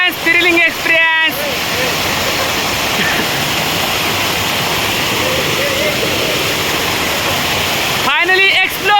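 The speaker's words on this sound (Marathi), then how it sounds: "फायनली एक्सप्लोर्ड परिठेवाडी धबधबा" The Paritewadi waterfall in the Sahyadri hills of Maval roars in a loud, unbroken rush of falling water, with brief voices heard at the very start and near the end.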